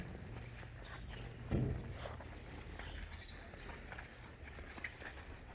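Hooves of a horse being turned around under a rider at an equine event, a few soft irregular steps with one heavier thud near the start, then shuffling, faint and somewhat distant.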